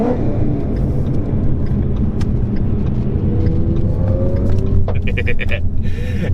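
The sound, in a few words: car engine revving, 350 with Corsa exhaust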